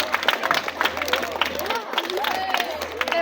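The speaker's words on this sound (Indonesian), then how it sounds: "Silakan tepuk tangan" Applause from a group of students, sustained and fairly loud, with scattered voices and crowd chatter blending into the clapping.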